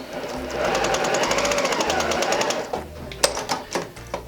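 A sewing machine runs a fast, steady straight stitch joining quilt sashing strips end to end, a close mechanical whirring chatter that stops about two-thirds through, followed by a few sharp clicks and handling noises.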